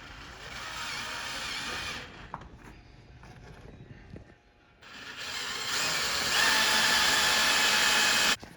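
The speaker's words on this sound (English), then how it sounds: "Just need to put a 16 mil on here on a drill." A cordless drill with a 16 mm socket spins off the fork cap nut of a Sachs fork on an Aprilia Tuono V4, whirring loudly in two bursts with a quieter pause of small clanks between them.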